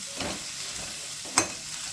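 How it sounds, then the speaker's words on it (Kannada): Two medium onions stirred without pause in a hot pan, giving a soft, steady sizzle with scraping strokes and one sharp clink of a spoon against the pan near the end. "ಹೀಗೆ ಹಾಕ್ಕೊಂಡು ನಾವು ಕೈ ಬಿಡದೆ ಒಂದು 2-3 ನಿಮಿಷಗಳ ಕಾಲ ಇದನ್ನು ಮಿಕ್ಸ್ ಮಾಡ್ತಾ ಇದ್ದೀನಿ"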